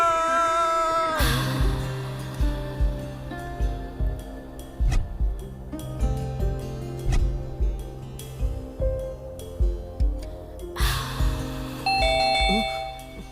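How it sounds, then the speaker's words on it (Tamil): A calling bell at a home door rings over and over in a steady, rhythmic pattern of chimes, loud and close, backed by sustained tonal music throughout. "இப்போ காலிங் பெல் அடிக்குது."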